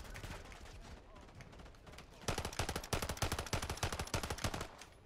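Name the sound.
gunfire in a video game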